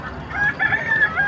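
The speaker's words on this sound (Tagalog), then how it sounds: "Dami oh, daming manok guys." Several chickens cluck and crow together nearby, a short busy burst of fowl calls.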